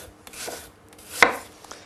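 Knife slicing apples into thin, even slices for a fine apple tart, heard as a few quiet cuts on a board with one sharper chop near the middle, close and alone.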